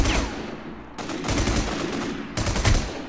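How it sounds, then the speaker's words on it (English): Rapid gunfire rattles through a War Inc: Battlezone match in sharp, dense bursts with short pauses between them, loud and close. "He's just panic firing in every direction"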